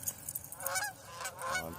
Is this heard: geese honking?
yes